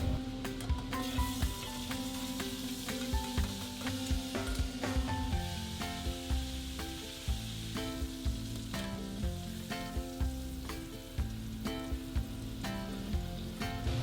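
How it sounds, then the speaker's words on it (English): Pork pieces deep frying over high heat in hot oil, a dense continuous sizzle with crackling pops and occasional stirring clinks, close and steady throughout. "Then turn on high heat and deep fry until golden."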